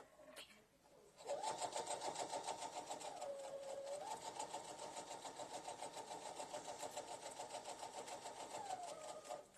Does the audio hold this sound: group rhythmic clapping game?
no